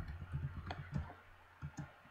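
Keyboard typing while entering text for a Minecraft creative-mode setup, with a run of close, soft key clicks in uneven bursts and short pauses between them.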